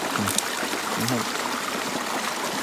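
A forest creek flows and trickles steadily nearby, a continuous watery wash with a couple of brief low sounds in the background.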